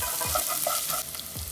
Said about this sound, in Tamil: நறுக்கி வச்சுருக்க வெங்காயத்தை சேர்த்துடலாம்.